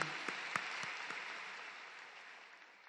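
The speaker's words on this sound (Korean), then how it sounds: "우리 예배를 받아주실 하나님께 영광과 감사의 박수 먼저 올려드립니다." A church congregation applauds during a worship service, a dense wash of clapping that starts full, with a few distinct claps near the start, and slowly fades toward the end.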